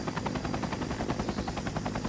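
A helicopter in the Prepar3D V5 flight simulator produces a rapid, steady rotor chop, loud and close, with a continuous whining hum and no talk.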